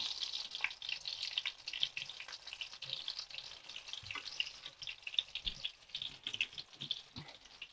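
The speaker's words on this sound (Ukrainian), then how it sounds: "Все смажиться дуже швидко." Steady, bright sizzling of potato pancakes and chops frying in a hot pan, with occasional pops and spatters and a few soft clinks, no voices.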